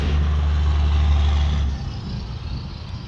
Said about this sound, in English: Same trucks. Here comes another one.